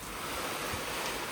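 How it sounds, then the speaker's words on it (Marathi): Wind-driven rain blows into a house during a storm, making a constant, loud roaring rush of wind and water. "वाऱ्यामुळे पाऊस जास्त यायला आत."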